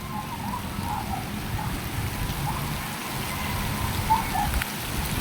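Steady rain falling outdoors, a continuous moderate hiss of drops on surfaces with no voices, even in loudness from start to end.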